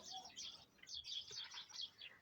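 Starlings nesting in a hollow of an old apple tree in a village garden give repeated faint chirps and whistles, a quiet, steady stream of bird calls heard from a little distance.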